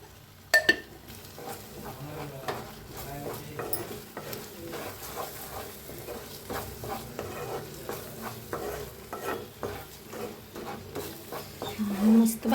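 Coriander powder masala roasts in a hot pan for an egg masala curry, giving a soft, steady sizzle with repeated scraping stir strokes and an occasional clink of the utensil, while a voice talks faintly in the background.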